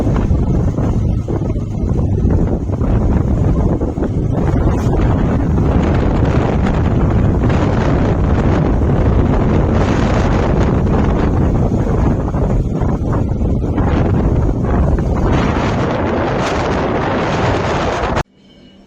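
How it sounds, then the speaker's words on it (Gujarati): Strong wind buffets a microphone outdoors in a farm field, a loud continuous roaring rumble with gusty surges that runs for nearly the whole stretch before cutting off abruptly. "પવન બહુ છે એટલે અવાજ બહુ ઓછો સંભળાય."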